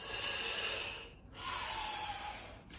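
A long, breathy exhale through the nose during a bodyweight forward fold, close and fairly loud, breaking briefly before a second sustained outbreath.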